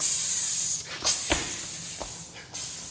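Voice imitating a spray can hissing: a long, breathy hiss with a few short bursts and breaks, close and fairly loud, with no other sounds.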